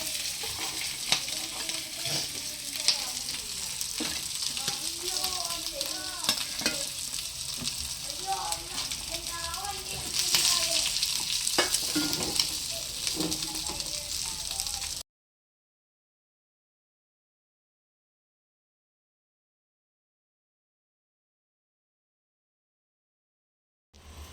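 Chicken pieces fry in a pan with a steady crackling sizzle and occasional stirring clatter for about fifteen seconds, then the sound cuts off abruptly into silence.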